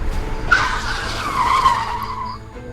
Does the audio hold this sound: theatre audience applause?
no